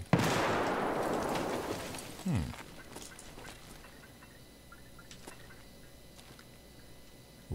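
A grenade blast in Escape From Tarkov opens loud and close, then fades into a quiet outdoor ambience, with a second short thump a couple of seconds later and faint scattered sounds afterward.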